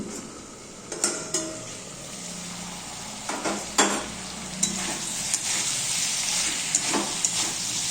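Winter vegetables sizzle softly in a pan as a utensil stirs them, with scattered metallic clinks and scrapes against the pan over a steady frying hiss.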